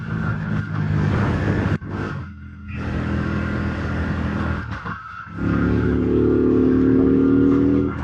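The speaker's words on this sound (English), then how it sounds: "Upshift to 5th gear." A 2025 CFMOTO 450 CL-C motorcycle with automatic transmission revs on a test ride, its engine note dropping briefly twice as it shifts up, then settling into a steady, higher drone in fifth gear.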